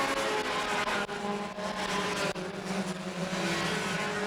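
A pure stock race car, number 33, slides sideways down the back stretch of a dirt oval and through the grass, its engine a continuous rough roar, loud and steady with slight revving shifts and other cars droning behind.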